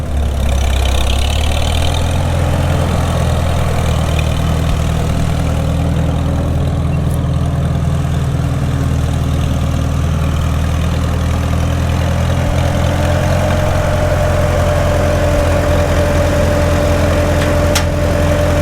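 A 1948 McCormick-Deering W-4 tractor engine runs in third gear, a loud, steady low chugging drone that holds unchanged for the whole stretch with no voices.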